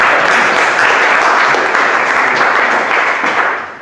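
A loud, sustained round of applause from an audience at an academy opening, dense continuous clapping that holds steady for several seconds before tapering slightly at the end.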